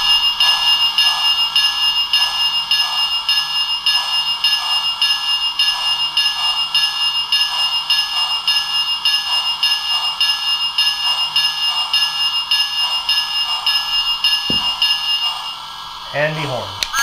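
A Lionel Thomas and Friends toy train bell rings steadily and loudly in a rapid, continuous metallic pattern for a long stretch, then stops abruptly, followed by a brief clunk.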